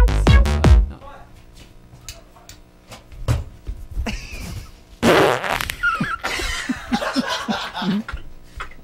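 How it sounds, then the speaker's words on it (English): A single loud fart during an indie livestream, a brief burst at the very start followed by people laughing and chuckling nearby, with background noise. "Oh man, I got a fart."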